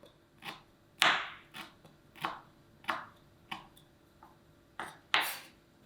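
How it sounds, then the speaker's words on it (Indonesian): A knife comes down on a cutting board as kaffir lime leaves are finely chopped, producing sharp, spaced taps at an uneven pace, some louder than others, close and clear in a quiet kitchen. "Dicincang halus."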